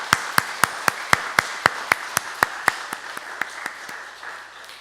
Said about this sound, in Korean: 우리 함께 한번 서로를 위해서 박수해 주시면 고맙겠습니다.